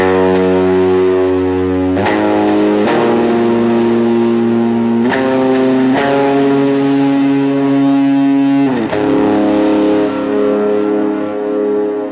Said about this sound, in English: I have my first stage drive and my boost kind of for my lead tone on